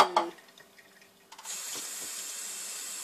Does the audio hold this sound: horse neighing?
no